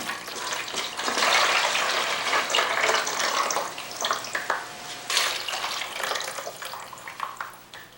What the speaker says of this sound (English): And then we'll pour it out again, carefully going around.